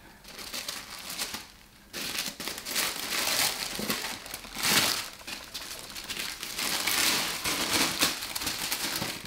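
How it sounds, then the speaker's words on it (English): Tissue paper wrapped around a Chanel bag is pulled open and unfolded, making close, continuous crinkling and rustling with a brief pause near the start and louder crumpling bursts throughout. "I'm gonna undo the tissue paper."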